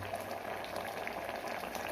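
A pot of coconut curry with red cowpeas and Chinese potatoes simmers at a rolling boil, giving a steady, soft, continuous bubbling and popping that stays faint and even throughout, with no talking.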